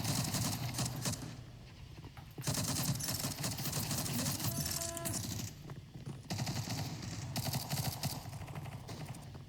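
Machine gun fire in a video game, heard as bursts of rapid rattling shots separated by short pauses, close and fairly loud with no talking.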